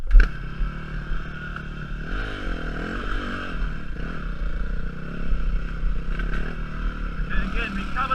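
A dirt bike engine revs through a wheelie, its tone rising and falling in uneven surges under a steady rumble, close and moderately loud.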